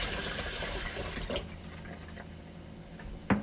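A kitchen tap runs water over a strawberry being rinsed, a steady close splash that fades after a moment, followed by quieter dripping and a small clink at the end.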